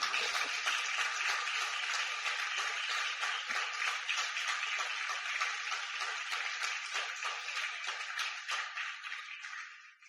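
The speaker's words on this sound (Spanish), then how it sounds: "Denle un aplauso al Señor." A church congregation claps for the Lord in a steady, dense wash of applause that holds for about ten seconds at a moderate distance before fading at the end.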